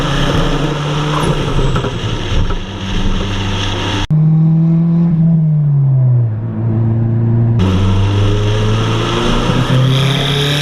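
A turbocharged car pulls hard along a quiet neighborhood road, its engine note rising and falling loudly through gear changes, with a brief lift-off in the middle before it builds again.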